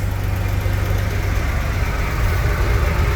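Jeep 225 engine idling hot after a head gasket job, a steady low rumble that stays even throughout, close and loud with no talk.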